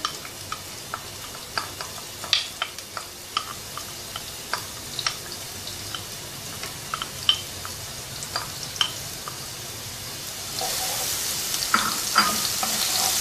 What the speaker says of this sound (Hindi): बस इसको इतना सा सौते करेंगे कि ये ज़रा सॉगी हो जाए।